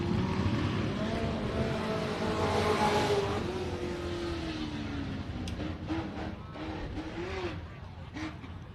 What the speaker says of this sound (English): A much different sound coming out of that number 14 machine. Almost sounds like a 6-cylinder of some sort.